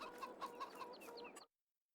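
Chickens on an old farm give a quick run of close, rhythmic clucks lasting about a second and a half, then fall silent with no talking.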